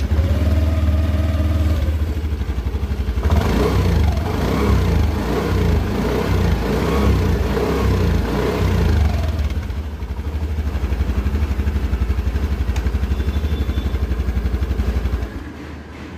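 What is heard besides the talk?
Honda Dio 125 scooter exhaust sound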